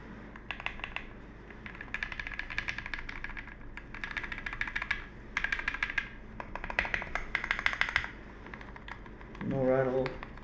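Bursts of close, crisp typing on a prebuilt OEM tray-mount mechanical keyboard, rapid clacking runs separated by short pauses, with a brief spoken sound near the end.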